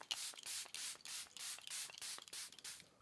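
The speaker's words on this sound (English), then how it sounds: "So I'm gonna go ahead and just spritz the face with this." Charlotte Tilbury Airbrush Setting Spray is spritzed onto a face in a series of quick, quiet, close hissing pumps, about eight bursts in a steady rhythm.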